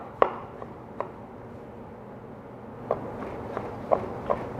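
A knife dicing a tomato for concassé on a cutting board gives a few sharp, quiet taps, a lone one early, then a scattered cluster of cuts near the end over soft room hush.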